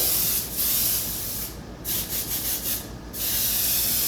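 An airbrush sprays pearl paint for subtle ghost flames, a loud, steady close-up hiss that cuts out briefly twice before resuming.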